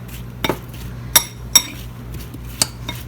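Apples and cinnamon get stirred in a bowl for apple crisp, with a few sharp clinks of a utensil against the dish and soft scraping between them, close and intermittent with no talking.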